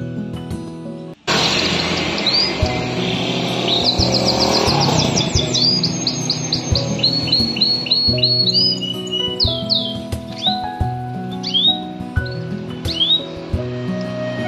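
A red local canary sings loudly and continuously nearby, with rapid trills, whistled rising notes and chirps over a steady background hum.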